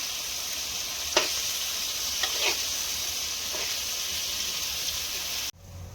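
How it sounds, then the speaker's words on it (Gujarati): Paneer sizzles in hot oil in a village kitchen, a steady hiss with a few scraping stirs, and the sound breaks off abruptly near the end. "પનીરને પહેલું તેલમાં શેકી નાખવાનું"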